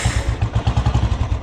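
Electric self-starter cranking an old Royal Enfield Bullet Electra 350 motorcycle engine, a rapid, steady train of loud, close, low thumping pulses with a clattery edge and no talking.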